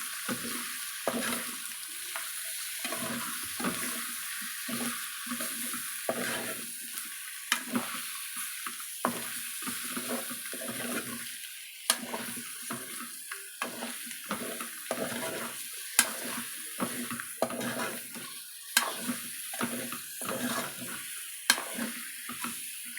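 A spoon stirs chili-powdered biryani masala in a pan with chicken and leafy greens, giving repeated scraping and wet mixing strokes over a soft sizzle, close and fairly quiet, with sharp clinks now and then.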